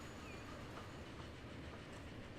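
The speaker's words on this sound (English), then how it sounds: "Oh, here we go. There you go. We're in the train." Steady rumble and faint clickety-clack of a passenger train ride in the Transport Fever simulation game, a continuous quiet low wash of rail noise with no talking.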